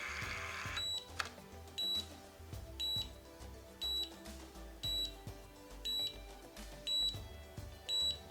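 A wireless automated curling iron beeps on its timer, short electronic tones repeating about once a second, clear and steady over a faint background hum.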